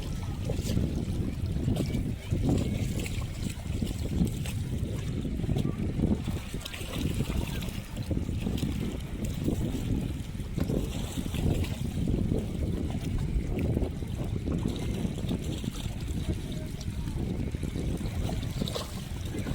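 Boat motors rumble low and steady amid lapping water and outdoor ambience on a Michigan lake during a Fourth of July boat parade, with faint voices in the background.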